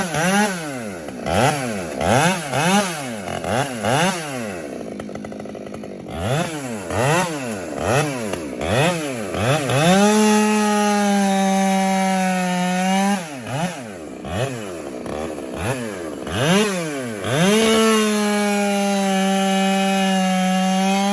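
A ported Husky 572 chainsaw cuts through wood outdoors, its engine repeatedly revving up and bogging down in loud, close bursts, then holding steady high-pitched screams during longer cuts, with no talking.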